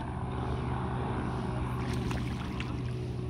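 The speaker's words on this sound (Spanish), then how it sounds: "Oye, papi, un avión." A low, steady engine rumble hums at a distance throughout, like a propeller plane passing overhead.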